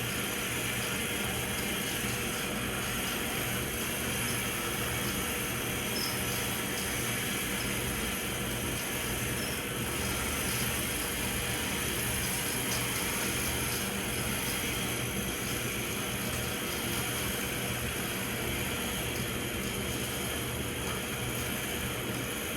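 Homemade jet car engine throttled up inside a garage, a steady loud roaring hiss with an even broadband rush that holds constant throughout.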